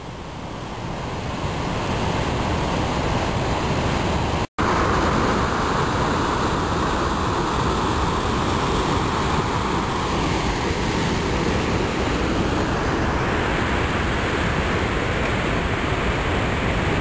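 Steady roar of White Falls, a waterfall of about 80 feet on the Robson River near Mt. Robson, a loud unbroken broadband rush that fills the whole stretch with only a momentary dropout, no voices.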